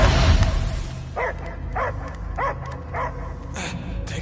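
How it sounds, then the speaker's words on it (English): Several distinct dog barks from the Guardians of the Galaxy video game, spaced in an even rhythm after a noisy opening, fairly loud over a low rumbling game soundtrack. "I hear only barking."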